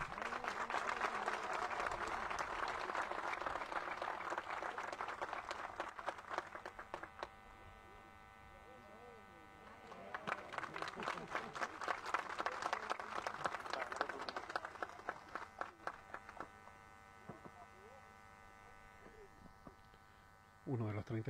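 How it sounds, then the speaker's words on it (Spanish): An audience applauds at a tribute ceremony, with clapping that swells, eases off, then rises again over a steady background hum, and moderately close individual claps stand out. "Un aplauso, por favor."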